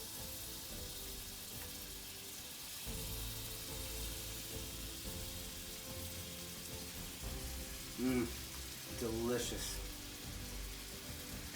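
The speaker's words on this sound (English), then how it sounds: "Let's get the cod in the pan." Cod frying in a hot pan gives a steady, fairly faint sizzle throughout, with a voice speaking briefly and a couple of short tonal sounds near the end.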